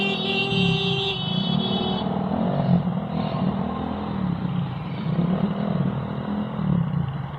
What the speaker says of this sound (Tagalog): Sasakyan na yun.